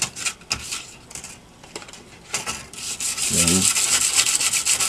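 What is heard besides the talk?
sanding with 60 grit sandpaper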